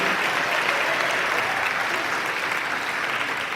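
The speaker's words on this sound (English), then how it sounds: "How about a big round of applause for everyone who raised their bid card?" Steady, dense applause from a large audience at a fundraising auction, continuous and loud with no break.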